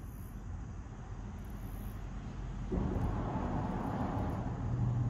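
A low, steady roar of road traffic rumbles overhead, heard from beneath a bridge, swelling louder partway through as more vehicles cross, with no talking.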